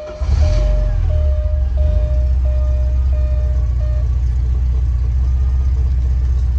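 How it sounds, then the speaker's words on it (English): A Porsche 924S engine cranks and catches after sitting all day, then settles into a steady, close idle with a faint repeating chime sounding over the low rumble. "I'm not in gear, I am gonna start the vehicle"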